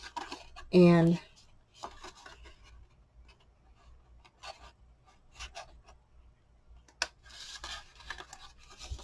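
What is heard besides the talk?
cutting a slot in cardstock for a Christmas card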